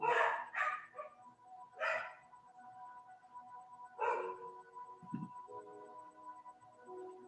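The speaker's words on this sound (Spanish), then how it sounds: "Espero estén escuchando el audio y no los perros de la vecina." A neighbour's dogs bark in short bursts: a quick cluster of barks at the start, then single barks a few seconds apart, with a low thud near the end. No talk is heard.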